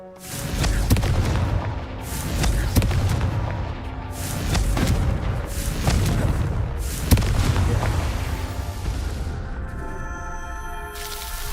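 Booming blasts from the Confringo spell in Hogwarts Legacy land repeatedly over a rumbling game backdrop, several heavy thuds spread across the stretch, fading at the end into a tonal ringing.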